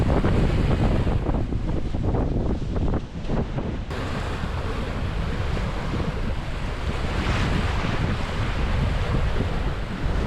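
Heavy ocean waves and strong wind during rough seas on a sailboat passage, a constant loud roar of surf and wind buffeting the microphone, with no voices.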